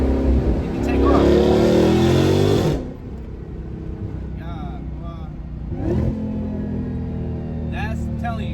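Dodge Hellcat Redeye dropping a gear on a country road, its engine roaring loudly in a surge for about three seconds before settling into a lower steady drone, heard from inside the car with voices over it.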